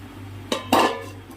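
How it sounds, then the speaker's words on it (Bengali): A lid clanks down onto a metal cooking pot of simmering mustard pomfret fish curry, two quick close metallic knocks, the second louder, over a low background hum. "মাছগুলো দিয়ে দিলাম, দিয়ে ওরা ঢাকা দিয়ে দেবো।"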